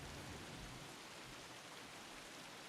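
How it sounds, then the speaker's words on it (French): Rain falling in the martial arts video game Sifu, a faint, even, continuous patter and hiss with no voices. "La pluie est très jolie."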